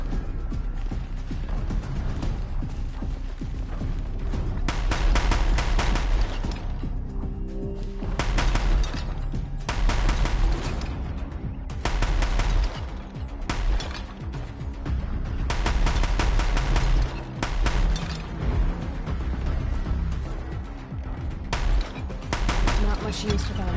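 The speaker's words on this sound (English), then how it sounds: "I love this gun." Bursts of rapid gunfire from a weapon in Horizon Zero Dawn, played on Very Hard, come in repeated loud volleys with short gaps between them, over game background noise.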